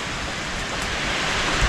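Heavy rain from a rainstorm falls outside a home, a dense, steady hiss with no talk over it.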